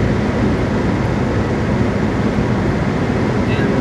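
A steady, loud rumbling roar of a passing BNSF intermodal freight train fills the clip without break, a broad rolling wash of rail noise.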